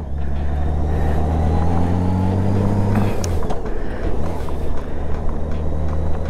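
A 2008 Honda Goldwing GL1800 motorcycle hums steadily while being ridden, with its engine drone and wind rush continuous throughout and someone talking over it.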